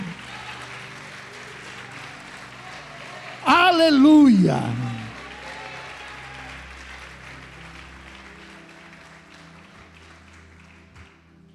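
A church congregation applauding during a sermon, a steady wash of clapping beneath a loud shouted hallelujah partway through, with a preacher's voice speaking over it.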